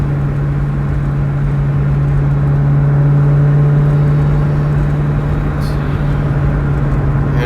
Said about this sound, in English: There's nothing like the sound of these cars. It's the 4 cams, you know, it's all the valves, it's the supercharger, it's the way the exhaust is routed